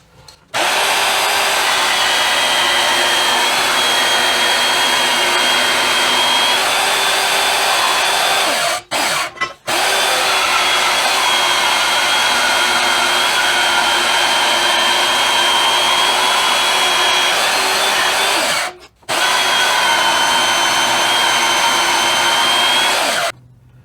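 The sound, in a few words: grinder grinding metal frame piece to fit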